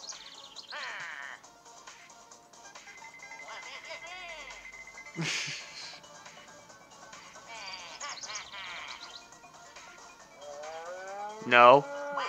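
Cows moo in the video game Waluigi's Taco Quest, with several drawn-out, fairly loud moos spread across the stretch among game sounds, ending in a louder burst.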